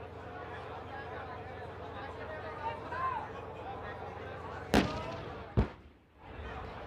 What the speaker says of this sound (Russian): Выстрел из танковой пушки.